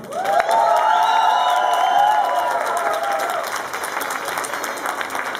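Club crowd at a live band show in Sofia applauding loudly, dense clapping with some cheering and a held sung or shouted tone over the top early on, then the clapping carries on a little quieter.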